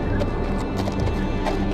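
Horse hooves clip-clop in a steady rhythm as a rider approaches a gate at the Wall in a Game of Thrones video game, close and continuous under a dense ambient backdrop.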